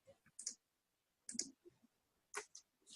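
A few sharp, quiet mouse clicks come in small clusters with silence between them, crisp and close, and nobody talks.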